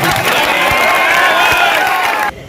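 A political rally crowd erupts in loud cheering and applause with high whoops and shouts layered through it, sustained and close before cutting off abruptly.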